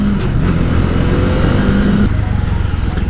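A motorcycle riding on an open road on a long-distance trip, its engine droning loud and steady with some rising revs and wind rush, no voices.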